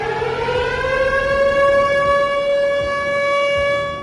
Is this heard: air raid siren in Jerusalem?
yes